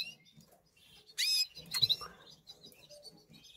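Chicks of the Spanish canary breed in a nest, from a yellow male and white female pairing, make thin high chirps and brief squeaky bursts, faint and close, with soft rustling between calls.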